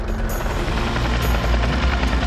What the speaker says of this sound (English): Is that a plane?